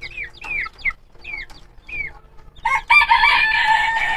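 Fancy backyard chickens in a coop holding two hens and a rooster give a few clear, separate calls, then a loud, sustained crow close by.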